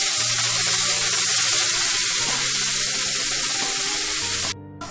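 Tomato puree hits sizzling cumin in hot oil, a loud, close spitting hiss that holds steady for several seconds before cutting off abruptly near the end.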